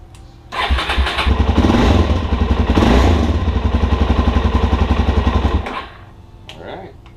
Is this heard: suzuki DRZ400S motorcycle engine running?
yes